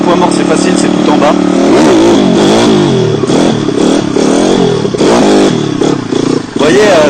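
A motorcycle with a four-speed gearbox revs hard in third gear, its engine pitch rising and falling in repeated loud, close surges. A voice can be heard faintly over the engine.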